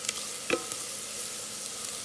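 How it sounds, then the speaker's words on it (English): Onion frying in an Instant Pot for goat curry, giving a soft steady sizzle with a few sharp stir clicks near the start. The sound is fairly quiet and close, and there is no talk. "Onion is fried."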